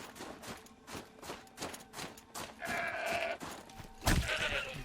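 A goat bleats in the Horizon Zero Dawn video game, a wavering cry over a rhythmic, clattering background with a sharp thump near the end.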